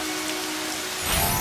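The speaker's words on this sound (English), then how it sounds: "Teacher, it's raining!" Cartoon rain falling, a steady broadband patter that swells louder near the end, with a faint tonal hum underneath and no talk.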